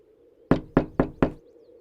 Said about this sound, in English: A knock rouses me from sleep.